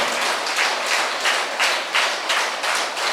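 Moderate applause from an audience gathered at a meditation pyramid center event, steady clapping for about three seconds with slight swells, fairly close and without speech.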